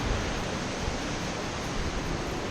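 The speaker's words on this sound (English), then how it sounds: "See the rapid flowing of the river." Rapids of the Kings River at Kings Canyon National Park, seen from a suspension bridge, rushing as a loud, unbroken broadband roar throughout, with no voices.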